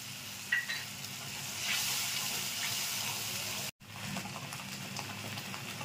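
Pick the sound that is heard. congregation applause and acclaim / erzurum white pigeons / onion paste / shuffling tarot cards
onion paste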